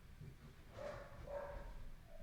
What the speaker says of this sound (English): They love to bark.